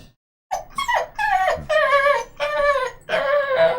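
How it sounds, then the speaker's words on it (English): A small dog whines in a run of high, drawn-out whimpers and yips, several separate bursts close to the listener, with no talk over them. "you are quite a whiny little dog"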